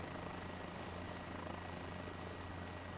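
A helicopter's engine and rotor drone steadily in Microsoft Flight Simulator 2024, a constant low, faint whirr with an even hum and no talk.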